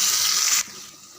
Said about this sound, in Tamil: அது கூடவே இந்த ஜாரில் இருக்கிற கொஞ்சம் தண்ணி விட்டுடுங்க